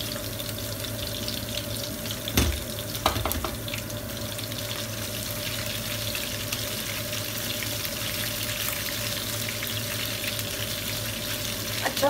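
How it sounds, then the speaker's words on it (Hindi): Mutton pieces frying in a pan until crisp, a steady soft sizzle running throughout with a couple of brief clinks near the start, no talking. "अच्छा फ्राई करना है हमें इसको क्रिस्प होने तक"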